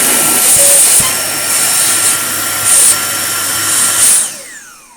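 A Dyson DC49 cordless vacuum cleaner running close by, a steady high-pitched whine with hissing airflow and a few brief surges in pitch before it winds down near the end.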